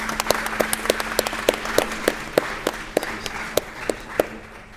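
A House committee hearing room audience applauding, many sharp individual claps ringing out over a steady low room hum, fairly sparse and irregular, moderately loud, lasting several seconds.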